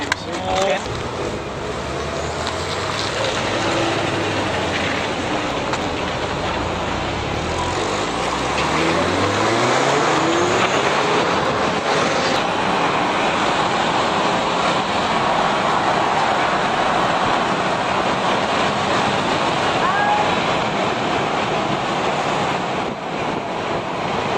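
A rally car at the Monster Rallye in San Francisco accelerating with its engine rising in pitch through the gears, under heavy wind buffeting on the microphone, while people talk over it.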